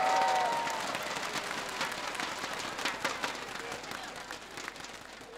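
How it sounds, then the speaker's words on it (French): Steady applause from a graduation ceremony audience fills the hall, strongest at the start and tapering slightly while holding as dense, even clapping throughout. "bien vouloir accueillir par des applaudissements bien nourris la porte-parole des récipiendaires ce soir, Salou Rebecca."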